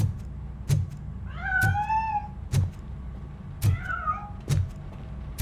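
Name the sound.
cat meowing in video game Robocop: Rogue City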